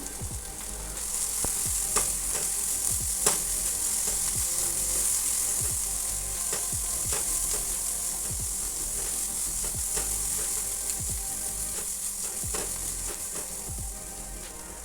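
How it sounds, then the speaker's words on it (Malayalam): Chopped onion and carrot sauté in a pan, giving a steady close sizzle throughout with repeated clicks and scrapes of a stirring utensil, and no voice. "ഒരു കഷ്ണം ക്യാരറ്റ് കട്ട് ചെയ്തതും കൂടെ ഇതിലോട്ട് ഇട്ട് രണ്ടും കൂടെ നന്നായിട്ട് തന്നെ ഒന്ന് വഴറ്റിയെടുക്കാം"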